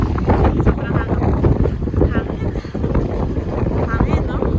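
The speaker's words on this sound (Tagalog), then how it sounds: "sobrang lakas ng hangin" Strong wind buffets the microphone in heavy, continuous roaring gusts in Hokkaido, Japan, with voices talking underneath.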